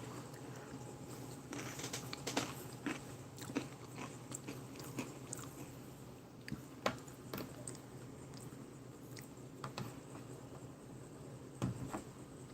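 Crunchy topping being chewed with a halal 2019 US MRE lamb jalfrezi, close soft crunches and bites in an irregular rhythm over a low steady background hum, no talking.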